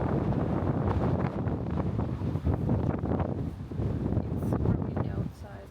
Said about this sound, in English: It's super windy outside, it's crazy.